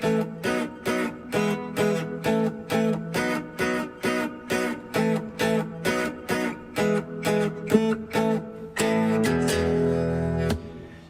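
Rhythmic electric guitar riff, with repeated choppy chord stabs in a steady pulse for about eight seconds, ending in a sustained, ringing chord.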